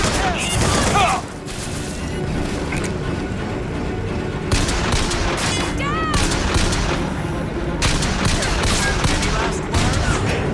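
Heavy gunfire in Bioshock Infinite: dense volleys of shots and booms that are loud and sustained, break briefly, then return in bursts, with someone speaking during the fighting.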